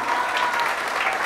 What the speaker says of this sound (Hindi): तो एक बार इस कपल के लिए जोरदार तालियां।